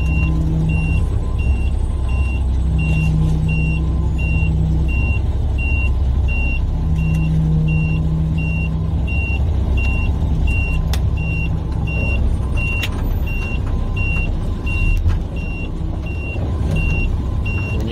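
A truck reverses through a construction area, with steady reversing beeps sounding at intervals over continuous engine rumble and nearby vehicle noise.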